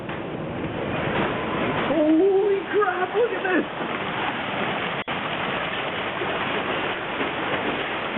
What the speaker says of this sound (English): suddenly it is hailing like mad